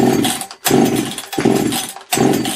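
A ported Husqvarna 272 chainsaw runs up close and loud, revving in four rhythmic bursts with brief dips between them.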